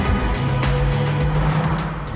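A 1.2-litre twin-rotor rotary engine in an early-1980s Mazda RX-7 runs steadily nearby, a smooth, buzzy drone with a sustained low hum and light pulsing revs, heard on its own with no talk.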